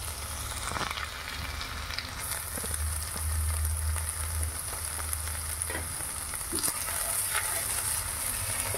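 Spices with salt and turmeric fry in oil, a close, steady rain-like sizzle with occasional stirring clinks and scrapes, running continuously with no speech.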